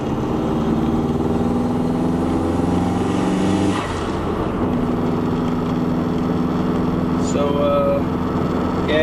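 A 2007 Subaru STI with a manual gearbox and extended shifter, its engine droning steadily, then a gear change drops the pitch partway through before it settles into a new steady hum, close and fairly loud.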